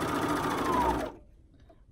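A serger sewing machine stitches a seam with a fast, steady whirring hum for about a second, then stops and leaves near silence before a brief restart at the end.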